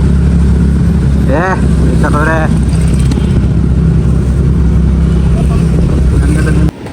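A vehicle being driven gives a steady low engine rumble that continues throughout, with a few short spoken phrases over it before the sound cuts off near the end.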